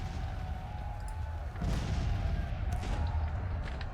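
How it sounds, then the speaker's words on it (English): Civil War artillery bombardment in Grand Tactician, with a continuous low rumble of distant cannon fire and a heavier boom swelling midway, followed by scattered cracks over the sustained roar. "we're still bombarding this area"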